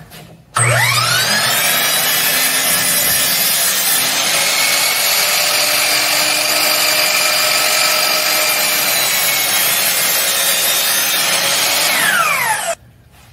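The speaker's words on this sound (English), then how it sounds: "So back over to the miter saw, we're just gonna trim our edges." A miter saw trims the edges of scrap wood for a contemporary key holder, one long continuous cut with a steady high whine that spins up sharply and winds down at the end. No one speaks.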